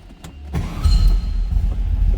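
A 1966 Volkswagen Beetle engine cranks briefly with a click or two, then catches and settles into a loud, close, rumbling idle.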